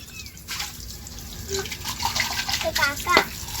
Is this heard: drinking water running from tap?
yes